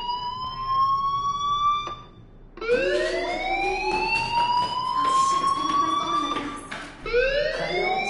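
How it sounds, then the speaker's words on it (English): A school fire alarm in the video game Life is Strange wails as a rising, sustained electronic siren tone that drops out briefly and restarts, loud and steady, with no talk over it. "Hey, do you hear that fire alarm? That means you should be outside."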